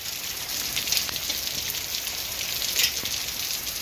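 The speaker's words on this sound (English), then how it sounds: "Hailstones, hailstones, hailstones, hailstones," Hailstones falling outdoors in August, a dense steady patter of small hard impacts with a few louder nearby hits, heard alone without talk.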